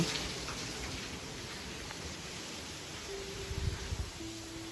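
Heavy morning rain pouring steadily at a construction site, a dense continuous hiss with a few low thuds near the end.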